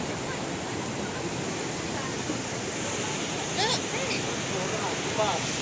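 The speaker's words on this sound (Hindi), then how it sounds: "ये भाइयों तीसरी वाटरफॉल है।" A waterfall in the Brecon Beacons, Wales, heard as a steady, broad roar of rushing water that fills the scene, with faint hints of distant voices and some wind.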